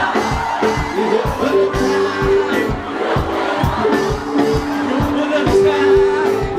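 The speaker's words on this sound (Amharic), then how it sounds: "ሲሰማ እልልታ ይኸው እልልታ ይኸው" Worshippers at a church service give shrill, trilling ululations that rise and fall over steady rhythmic beats, with the crowd noise loud and continuous throughout.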